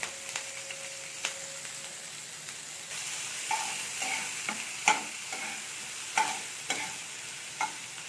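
Grated ginger and chopped green chilies frying in hot oil, a soft continuous sizzle with a brief tone early on, then repeated scraping stirs and clinks of a spoon against the pan.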